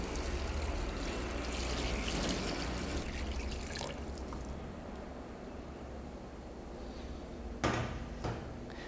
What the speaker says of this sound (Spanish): en este momento vamos a agregar agua. Agua fría.